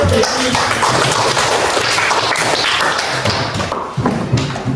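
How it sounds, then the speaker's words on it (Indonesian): A classroom of junior high school students claps together in a dense, steady burst of applause that fills the whole stretch, loud and close, fading slightly near the end. "Tepuk tangan."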